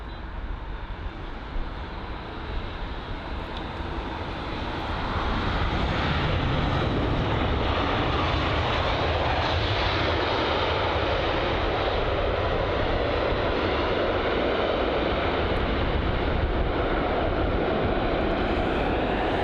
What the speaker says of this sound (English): So the Royal Air Maroc 737 MAX 8 that had just touched down